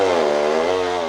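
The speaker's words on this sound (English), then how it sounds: "we heard the scream of the chainsaws no more than a kilometre away." Chainsaws cut trees in a forest roughly a kilometre off, one steady buzzing whine that dips slightly in pitch and holds continuously, with no voices.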